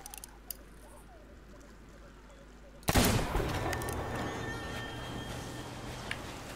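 Ship cannon fire in the Sea of Thieves pirate video game: a sudden loud blast partway through, then a dense roar of continued fire and battle noise that stays heavy to the end.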